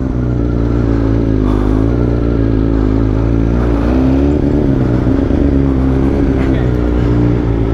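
A BMW S 1000 RR superbike engine runs close and loud, its steady, throaty drone rising and falling slightly in pitch as the throttle shifts, without any exhaust popping.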